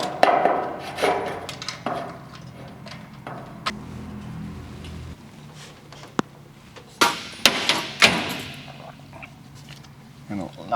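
Hammer blows on metal and wood during a shop rebuild, a scattering of sharp separate knocks, some clustered near the end, under intermittent talk and workshop noise.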